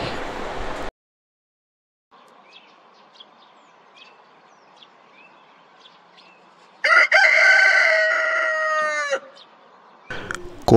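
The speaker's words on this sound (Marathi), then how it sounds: "कोंबड्याच्या या बांगेने आमच्या दिवसाची सुरुवात झाली" A rooster crows at dawn near the Ambamata temple in Dapoli, Maharashtra, one loud drawn-out call standing out over a quiet background of faint distant birds, with brief bursts of other sound at the start and end.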